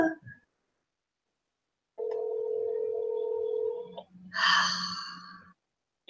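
During an online group meeting, a phone call back to a participant produces a steady telephone dialing tone. The tone holds for about two seconds in near silence, then a short breathy voice-like burst follows.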